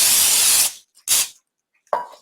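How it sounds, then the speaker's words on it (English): Two bursts of cooking spray hiss close by into a baking pan, a long one then a short one, followed by a soft clatter. "spray it with your cooking spray"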